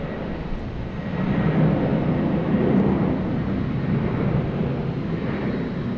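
A United Airlines Boeing 737 jet roars steadily at Boston Logan Airport, a broad loud rumble that swells slightly and holds, heard from a distance outdoors.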